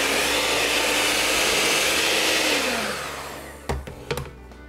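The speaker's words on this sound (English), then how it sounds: "it's just going to be easier for you to see what I'm doing with this mixer" Electric hand mixer whirring steadily through batter at close range, a loud continuous motor drone that fades after a few seconds, followed by a couple of short clunks.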